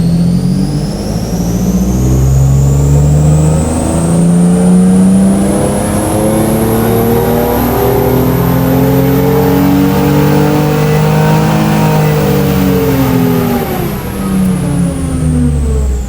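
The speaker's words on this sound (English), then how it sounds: "let's do our first ramp run now on the dyno" A car engine at wide open throttle on a dyno during a ramp run, droning loud and steady as the pitch climbs smoothly, then eases back near the end, with a high whine rising alongside.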